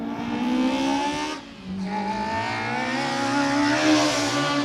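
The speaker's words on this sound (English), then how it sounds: "I love leaving the mics open when the cars are working up the hill" A race car engine at a hillclimb event revs hard and climbs through its gears up the hill, loud and sustained, with a brief dip before pulling up again.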